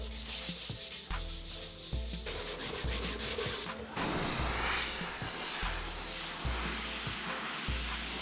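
A car panel is sanded by hand with 600-grit sandpaper. Close, steady rubbing strokes with a gritty hiss come in an even back-and-forth rhythm, and the sound grows brighter and more continuous partway through.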